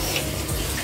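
Water runs steadily onto lentils for dal being prepared at home, a short close trickle with no voices.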